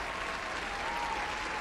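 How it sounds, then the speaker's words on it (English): Applause and cheering fill a railway station in an audio drama, a steady dense wash of clapping from a large crowd with no individual voices standing out. "The station was filled with loud claps and cheers."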